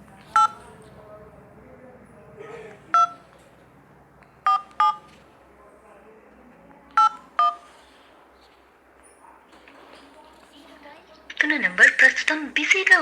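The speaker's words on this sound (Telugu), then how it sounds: "ఫోన్ చేద్దాము." Telephone keypad dialing: short DTMF tone bursts in irregular pairs and singles, clear and close, with faint background voices and a recorded busy-line announcement beginning at the end.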